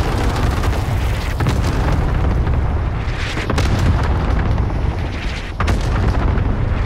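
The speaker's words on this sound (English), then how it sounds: "Enemy cluster strike incoming" Continuous heavy booming from a cluster strike in a multiplayer video game, a dense wall of rumbling explosions that barely lets up, with a couple of brief dips before the barrage resumes.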